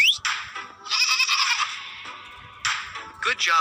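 Goats bleat loudly and up close in a farming simulation game, a couple of long wavering cries followed by shorter bleats.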